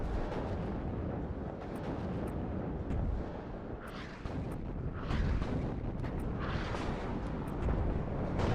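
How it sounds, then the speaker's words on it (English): Artillery barrages in the WARNO wargame during an airborne assault on a stronghold at Kassel: continuous rumbling booms and distant blasts layered into a dense, steady roar, with several sharper bursts standing out near the middle and end. "We'll let the artillery do the work."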